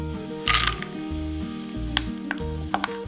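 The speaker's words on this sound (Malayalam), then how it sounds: "ഇത് എണ്ണയിൽ നന്നായിട്ടൊന്ന് റോസ്റ്റ് ചെയ്തെടുക്കണം." Peanuts roast in hot coconut oil with a steady close sizzle and frying crackle, broken by a few sharp stirring clinks from the pan.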